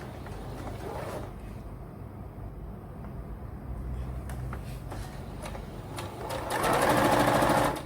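A sewing machine stitching a fabric basket, with a close mechanical chatter that runs in bursts, pauses briefly and then speeds up to a louder, faster run near the end.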